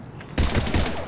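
Video game gunfire from Mass Effect 3 erupts after a brief quiet lead-in: a loud, dense burst of rapid shots close up, running for most of the second.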